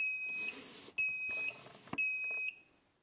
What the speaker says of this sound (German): Wenn ich dieses Glas vor unser Messgerät stelle, wird sofort Alarm ausgelöst.